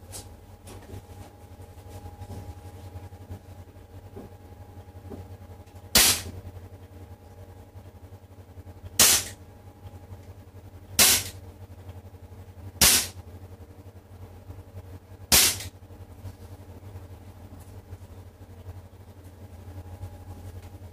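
Five sharp airsoft shots from a WE Glock 17 Gen 4 gas pistol in an accuracy test crack out at uneven intervals several seconds apart over a low steady background hum, with no talking.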